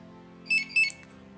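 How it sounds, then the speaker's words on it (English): A Compustar remote start system on a car gives two quick high electronic beeps as the doors unlock and the trunk pops, sharp and close over a low steady hum. "It beeped at you twice there to let you know that it unlocked the doors and popped the trunk."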